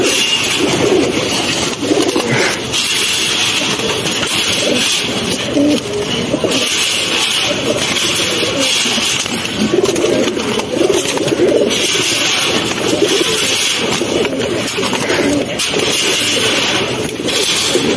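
Pigeons for sale coo steadily at close range in a loft, their soft overlapping calls running throughout under a constant bright background hiss.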